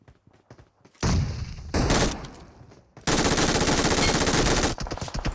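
Machine gun fire from PUBG Mobile, likely an MG3, rattles loud and close in two long bursts after some quieter taps, the second burst sustained and dense.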